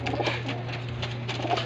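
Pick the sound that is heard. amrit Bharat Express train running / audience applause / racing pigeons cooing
racing pigeons cooing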